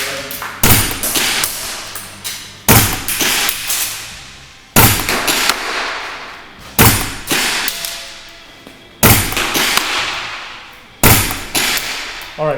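A WE SCAR-L MK16 gas blowback airsoft rifle fires six loud semi-auto shots, each a sharp crack with a mechanical blowback clack, spaced about two seconds apart at close range with no talking.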